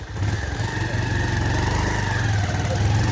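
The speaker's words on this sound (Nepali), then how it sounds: "बाइक स्टार्ट भयो होइन अब" A motorcycle engine idles with a steady, rapid putter, running evenly and close by without revving, on a road to Kharbang.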